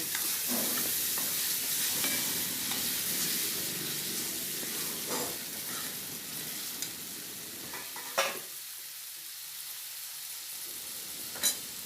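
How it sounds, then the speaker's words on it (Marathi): Moth beans (matki) are stirred in a hot pan: scraping strokes over a continuous sizzle, busier at first and quieter later, with a few sharp knocks of the spoon. "मटकी चांगली हलवून घेऊया"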